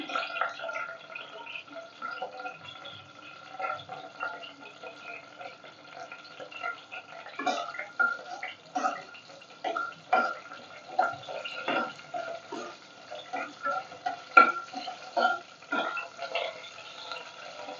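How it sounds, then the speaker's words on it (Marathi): Mutton being stirred and sautéed in a pan for a Kolhapuri white rassa, giving repeated soft scraping and sizzling clicks that grow busier and louder partway through, close by with no talk. "परतून घेऊया छान"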